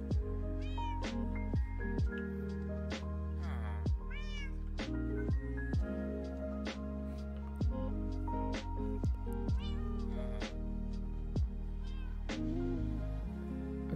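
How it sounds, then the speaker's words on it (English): Repeated meows from cats in the video game Minecraft, a long run of short tonal calls spaced irregularly over a steady background, close and prominent with no one speaking. "I hear one of my cats sleeping again."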